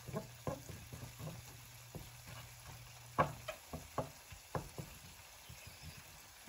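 A spoon stirring tomato sauce for beef kaldereta in a pan over low heat, a quiet sizzle underneath with repeated close scraping knocks in an uneven rhythm, no voices.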